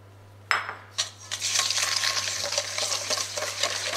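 Two eggs with 100 g of sugar and a pinch of salt being whisked in a bowl for corn muffins: a couple of sharp taps, then rapid continuous close whisking clatter, no talk.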